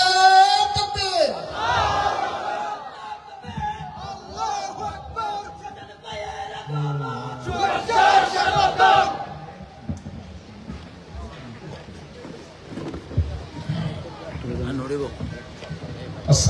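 A crowd at an Islamic sermon rally in Chattogram shouts the takbir in unison in reply to a leader's call, loud bursts of massed voices alternating with a single amplified voice.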